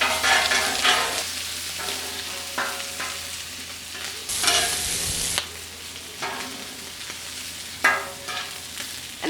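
Shrimp fry and sear in oil in a pan as they are pressed down and pushed aside, with a steady sizzle broken by scraping stirs, a loud hissing burst and sharp utensil clacks.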